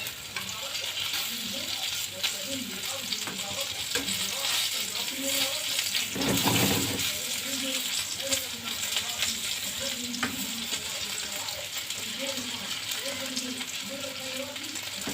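Food fries in a pan with a continuous crackling sizzle and occasional stirring or scraping, fairly quiet and close, with a brief louder rustle partway through.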